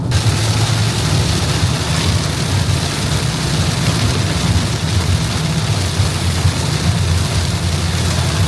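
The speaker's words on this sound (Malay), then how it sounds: "Hujan kan nampak." Steady rain drums on a car during a drive toward Kuala Terengganu, Malaysia, a dense continuous wash with a low road rumble underneath, loud and unbroken throughout with no talking.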